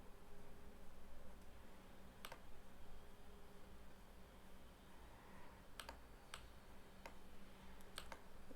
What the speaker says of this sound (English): Here we can type.